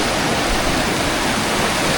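Fast-flowing stream water rushing steadily at a gold prospecting spot, a loud, dense, continuous roar close by with no pauses and no voices.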